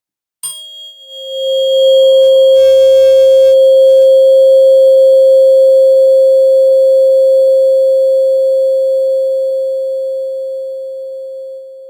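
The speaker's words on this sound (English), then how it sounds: "let's get some 528 hertz in our lives" A pure 528 hertz tone for meditation sounds steadily and loudly after a brief onset, with faint chiming sparkles over it early on, then slowly fades somewhat toward the end.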